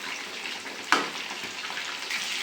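Chicken kebab pieces frying in a pan, a steady close broadband sizzle with one sharp louder spit or stir near the start, continuing evenly throughout without speech.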